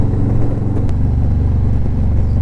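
Harley-Davidson motorcycle cruising on a road, a loud, steady, close engine rumble with a deep throbbing low end and constant wind noise, no speech.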